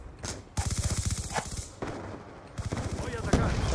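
Rapid automatic gunfire from the video game Black Ops 2 rattles in dense, close bursts, broken by brief pauses and sharp single cracks.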